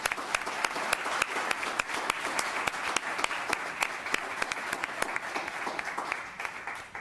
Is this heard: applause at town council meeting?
yes